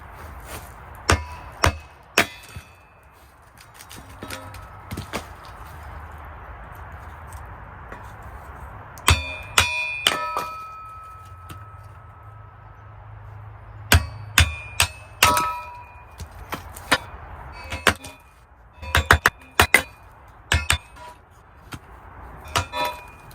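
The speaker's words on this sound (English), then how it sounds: "we're gonna split some kindling real quick" Kindling wood is split with a small kindling splitter, producing irregular bursts of sharp metallic clangs and woody chops, some in quick clusters, separated by quieter gaps over a low rumbling background, close up with no talking.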